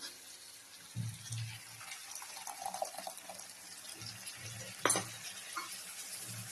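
Water is poured into a sizzling pan, with stirring clatter and a steady fry hiss; a sharp clank sounds partway through.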